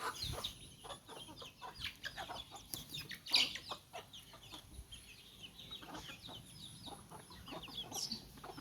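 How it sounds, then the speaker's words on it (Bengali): Chickens cluck and peck while eating rice. The clucks come as a steady, busy chorus of short calls with scattered pecking taps, close by and at a moderate level. "মুরগির চাল খাচ্ছে"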